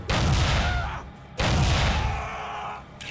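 Gunfire in the video game Soldier of Fortune: Platinum Edition, two loud sustained bursts of automatic fire, each about a second long, separated by a brief pause.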